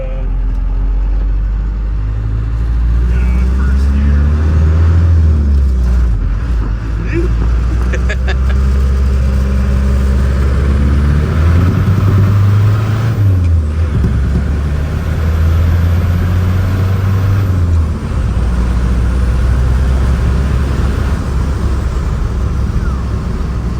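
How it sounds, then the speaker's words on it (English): A Cummins-swapped four-cylinder engine in a 1950 Chevy tow truck revs up and settles back in loud, rising pulls, its deep drone running steadily through the whole stretch. "for a 4-cylinder, it's got a bit of punch. yeah, I mean, it's a fun little truck."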